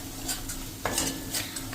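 Spices, coriander-cumin powder and turmeric, being stirred into onions in a pan over a low flame for a Gujarati cluster bean dish, with a steady soft sizzle and periodic scraping strokes of a spoon against metal, close and without speech.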